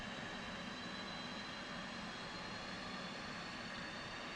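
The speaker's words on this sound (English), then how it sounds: "Click in the throttle. Watch her spool up." An F/A-18C jet engine runs during start-up, heard as a faint, steady roar with a thin high whine, continuous and unbroken, with no voices.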